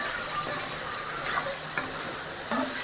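Chana sundal frying with masala in a pan, giving a steady, soft sizzling hiss with faint occasional clicks of stirring, continuous and fairly quiet throughout.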